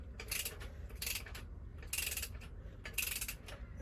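A ratchet wrench clicks in four evenly spaced bursts of rapid pawl ratcheting while torquing engine head bolts in sequence, close up and fairly quiet with no talk.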